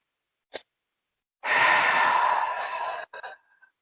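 A single deep breath drawn in slowly and released as a long, audible sigh during a guided release exercise, preceded by a brief short inhale and trailing off in a few softer breathy puffs, close and alone.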